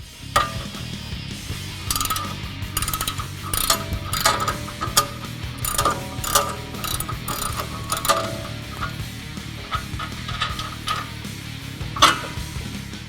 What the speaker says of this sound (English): remove the 21mm nut on the tie rod